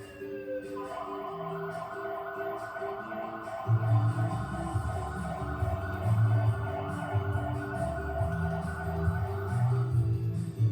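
A fire engine siren wails steadily, with a low rumbling engine and background crowd noise rising partway through; no speech.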